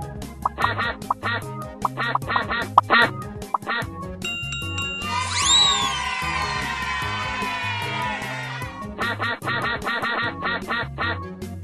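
Bouncy electronic game music with cartoonish quacking ducks, a bright sweeping chime burst in the middle, then the jaunty tune resumes.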